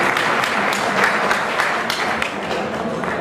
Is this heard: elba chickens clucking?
no